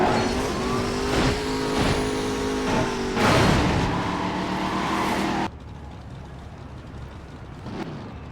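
A car in Midnight Club 3 DUB Edition Remix drives with a steady, loud engine drone that shifts pitch as it revs. The engine then drops abruptly to a quieter, distant hum.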